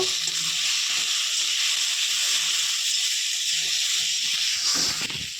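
Mustard paste being stirred in a hot frying pan for a lentil and Malabar spinach dish gives a steady, close hiss and sizzle that runs throughout, with no talking.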